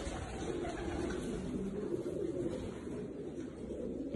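Pigeon cooing as a bird is handled and shown, soft low coos blending into a constant noisy background hum throughout, fairly faint.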